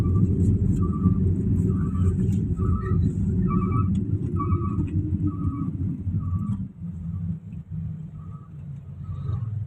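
Low, steady road rumble from inside a car stuck in a traffic jam, with a regular series of short, soft chirps or beeps repeating over the drone. The rumble dips briefly near the end.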